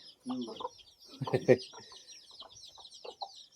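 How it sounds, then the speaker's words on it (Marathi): Chicks peep in a basket at a small backyard poultry setup, a continuous high, thin chirping close by, with lower hen clucks and a person speaking briefly mixed in. "हे बघा ह्या टोपल्यात तर खाली पिल्ले आहे"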